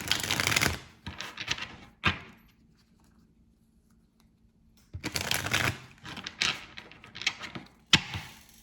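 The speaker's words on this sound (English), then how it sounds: "Take 3 breaths as I shuffle these cards." Tarot cards riffle in two close, papery bursts separated by a quiet pause, each ending in a sharp tap as the deck is squared.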